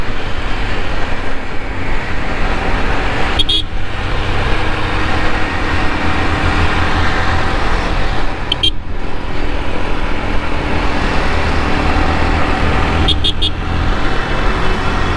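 Motorcycle engine held at full throttle while riding through traffic, a loud continuous roar with other vehicles passing close by and periodic brief whooshes from overtaking traffic.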